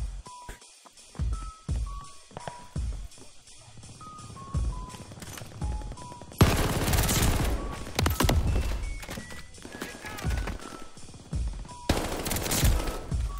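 Rapid bursts of automatic gunfire and scattered single shots in Call of Duty: Vanguard, loud and close, with long sustained volleys and brief pauses between them.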